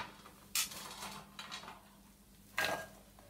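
Candied fruits, dried fruits and raisins tipped into a mixing bowl for a Christmas fruit cake, giving a few soft clattering rustles, two brief bursts with quieter scraping between, close by and without talk.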